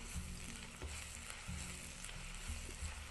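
Ginger garlic paste frying in oil with lightly browned onions for a cauliflower curry, giving a steady, close, crackling sizzle with faint stirring throughout and no talk.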